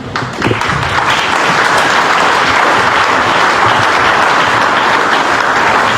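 A congregation at a prayer camp breaks into loud, sustained applause, dense and continuous clapping that fills the whole stretch with no pause.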